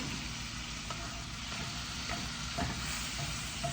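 Red peppers sizzling in a hot pan while being stirred for a ramen sauce with brown sugar, a soft continuous frying hiss with occasional light scrapes, close and quiet, no talking.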